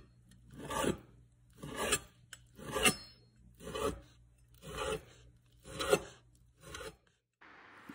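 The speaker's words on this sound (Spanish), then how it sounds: "Cortar el tocino." Knife slicing through bacon for a carbonara-style spaghetti, seven rhythmic rasping strokes about one per second, close and crisp, with no talk.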